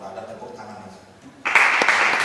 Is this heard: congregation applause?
yes